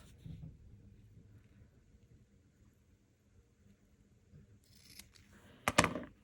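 Scissors snip through wedding dress fabric in a short, close burst near the end, after a quiet stretch of faint handling noise.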